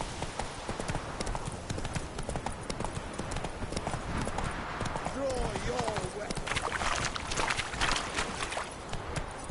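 Roach, a horse in The Witcher 3, clip-clops along at a walk, with the steady hoofbeats close and continuous under a voice talking over the game audio.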